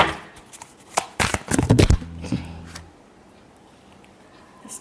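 Tarot cards shuffled by hand, a quick burst of crisp riffling and flicking lasting about two seconds, close and fairly quiet, followed by a few soft card taps and then near silence.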